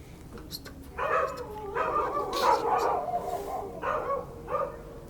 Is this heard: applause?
no